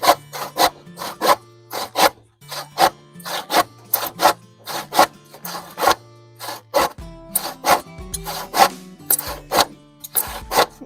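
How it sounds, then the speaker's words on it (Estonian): A hand saw cuts through wooden floorboards during floor construction, with frame building underway. The strokes are close and loud, a steady rhythmic rasp of repeated back-and-forth cuts with short pauses between them. "Praegu teeme põrandalauda hakkame saagima ja käib ka raami ehitus."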